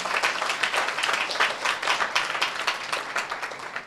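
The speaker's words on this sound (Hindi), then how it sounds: "जोरदार ताली बजाकर" Sustained applause from a church congregation, dense steady clapping that holds at a strong level throughout.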